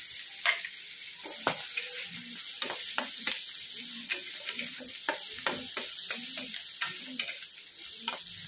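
Coriander and red masala going into a frying pan for bhaji, with rhythmic spoon clicks and scrapes against the pan repeating over a faint continuous sizzle.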